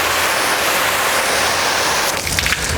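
Water spraying onto a car during a quick rinse after a strip-wash with Adams Strip Wash, a steady loud hiss throughout that roughens and spatters near the end, no talking.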